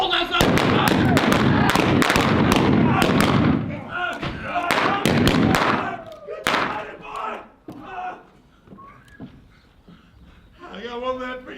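Rapid, loud gunshots crack in a dense volley during an OK Corral gunfight reenactment, then thin out to scattered shots, with shouting voices mixed in.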